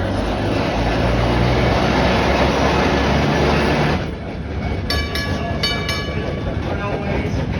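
A vintage trolley work car rolls along rails at a trolley museum meet: a loud, continuous rumble of wheels on track, with bright metallic ringing tones near the end.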